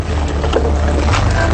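A boat moves across the wide, deep Malahayu reservoir with a steady low motor rumble and wind and water rushing close by, no voices heard.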